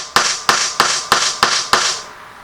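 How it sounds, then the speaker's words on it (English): A 20-ounce hammer strikes the end grain of wood six times in a steady rhythm, each blow a sharp, close knock with a short ringing tail and no talking. "I've got a 20-ounce hammer here"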